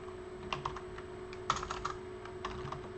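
Fingers type on a computer keyboard in close, quiet bursts of clicking keystrokes over a steady low hum, with no one talking.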